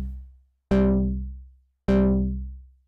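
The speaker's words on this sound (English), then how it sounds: "Now let's add to this sound by giving both oscillators 8 voices of saw wave" A Sylenth1 software synth plays two separate plucked notes from two 8-voice saw oscillators, each a bright buzzy hit with a deep low end that fades out within about half a second to a second.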